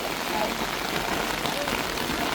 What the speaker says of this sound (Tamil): மழை அடிக்குது